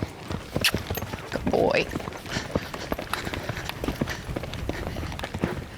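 A horse lopes in a training session, its hoofbeats thudding in a quick rhythmic pattern at moderate distance while people talk nearby.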